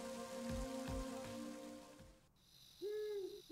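Rain in the Game Boy Advance game Mother 3 hisses steadily under soft chiptune tones, then cuts off abruptly, leaving a few bright electronic chirps.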